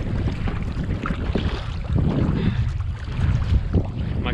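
Gusty wind buffets the microphone on choppy Puget Sound water at low tide from an eight-foot fishing kayak, giving a loud, rumbling, continuous roar with faint water sloshing underneath.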